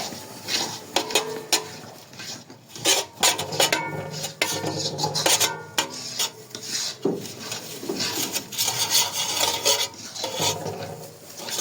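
Ghee-coated chickpea barfi mixture scraped and stirred on a plate or pan, giving steady, close rasping strokes and wooden scrapes with occasional clinks, uneven in rhythm and without any talk.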